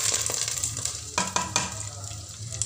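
Hot tempering of cumin, pepper and curry leaves poured into ven pongal, giving a loud close sizzle and crackle with a few sharp spitting pops over a steady frying hiss, with no talk.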